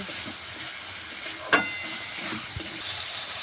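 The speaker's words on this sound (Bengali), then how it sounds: "এবার সামান্য পরিমাণে চিনি দিয়ে দেব স্বাদটা ভালো আসার জন্য। তারপর ভালো করে আবার নেড়ে চেড়ে নেব।" Spice paste with a little sugar being stirred as it fries in a pan for a fish-head and cabbage curry: a steady soft sizzle with one sharp utensil clank midway and a faint scrape later.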